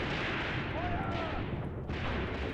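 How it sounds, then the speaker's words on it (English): Grenade blast in the Graviteam Tactics war game, a dull muffled boom under a constant roar of battlefield noise, fairly faint and distant with a short dip near the end. "Grenade thrown by our boys."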